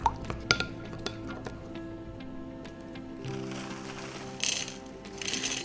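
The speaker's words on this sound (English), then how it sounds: "Give it a good stir." A spoon stirs chia seeds soaking in low-fat milk in a cup, with a few sharp clinks against the container at the start, then soft wet swirling and more light taps near the end.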